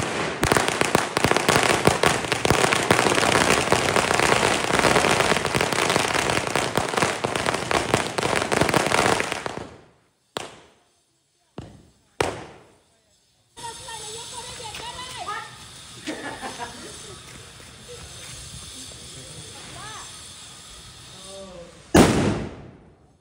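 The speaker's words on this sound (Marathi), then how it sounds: "चल जर आता फटाके वाजवता" Diwali firecrackers burst outdoors, a dense crackling barrage for about ten seconds, then a few sharp isolated bangs, with children's voices and chatter during a quieter stretch before one last loud burst.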